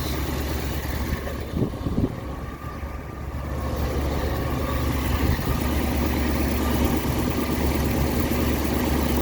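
A 1959 Ford Fairlane 500 engine idles at a steady, low rumble with a constant mechanical hum, holding an even level throughout with no voices.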